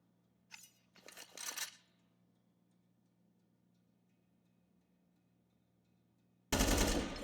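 Gunshots in a Counter-Strike match, with a short burst near the start, a longer rattling burst just after, then a sudden loud volley at the end following several seconds of quiet background hum.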